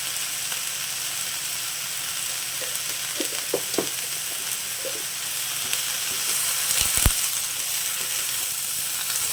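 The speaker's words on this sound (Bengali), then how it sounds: "আবার একটু ভালো করে নাড়াচাড়া করে নেব।" Moong dal with pumpkin greens being stirred in a pan for a Bengali-style dish, a steady soft sizzle with a few scraping clicks from the spoon and a brief louder scrape near the end, no talking.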